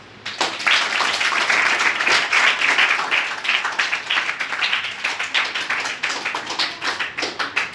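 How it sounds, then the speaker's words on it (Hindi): Students clapping at a Sahaja Yoga meditation session in a school, loud dense applause that starts abruptly and then thins into a looser, rhythmic patter of claps toward the end. "तालियां बजाएं"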